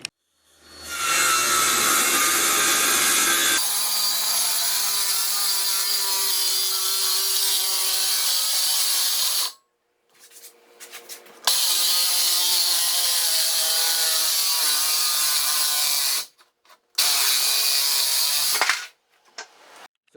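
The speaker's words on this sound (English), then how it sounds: "So I finished marking all the plywood and it's ready to cut." Power saw cutting a large sheet of plywood along a clamped straight edge in a shop, with a steady loud whine that runs in long continuous passes broken by short pauses, no talking.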